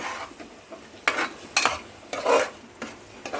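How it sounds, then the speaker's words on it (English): A spoon stirs turmeric masala loosened with water in a pan over a low flame for a spicy desi chicken curry, giving several separate scraping, sizzling strokes at a close, moderate level with no talking. "Give it a stir."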